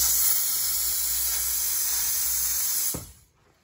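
A Bissell Power Steamer blasts steam onto tomato sauce on a stovetop, giving a loud, steady hiss that runs for about three seconds before cutting off and fading out.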